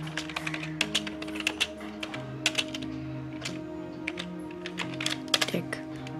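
A channel name is typed on a computer keyboard, with quick bursts of close key clicks and short pauses between runs of taps.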